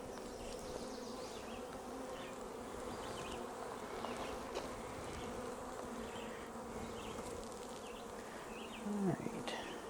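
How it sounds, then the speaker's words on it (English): Honeybees swarm around an opened backyard hive being inspected, making a dense, steady, close buzz throughout, with one louder bee passing near the end. "Look out, bee."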